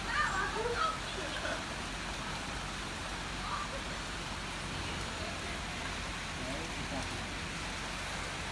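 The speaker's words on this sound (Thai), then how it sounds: "ฝนกระตกครับพี่น้องเอ้ย" Heavy rain falls steadily over an outdoor stage setup for a music rehearsal, a continuous broadband wash with a few brief sounds near the start, otherwise unbroken.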